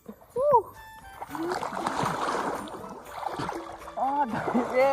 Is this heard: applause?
no